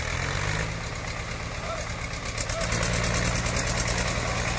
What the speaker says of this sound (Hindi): ये देखो जी एस्कॉर्ट ने भी रेस कर दी अपनी 800-700 चक्कर।